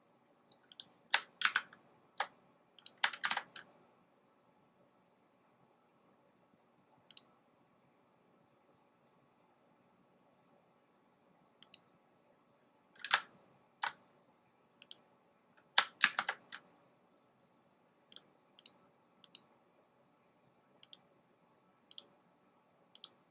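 Scattered bursts of key clicks from a computer keyboard during a Canva design session, quick clusters of taps separated by quiet gaps, close and fairly faint.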